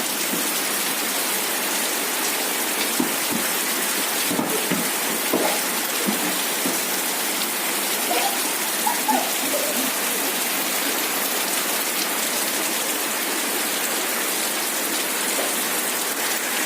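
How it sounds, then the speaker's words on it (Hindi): Heavy rain pours steadily and loudly on an outdoor surface at night, a dense continuous hiss with a few scattered nearby knocks and taps. "तो बारिश देखिए कितनी जोर से हो रही है"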